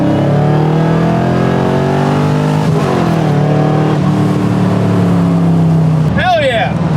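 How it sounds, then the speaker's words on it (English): A 1975 Corvette with a 4-speed manual roars as it accelerates hard, its engine note climbing in rising sweeps and dropping briefly at each shift, loud and close from inside the car. "bang shift this car like I would my own car"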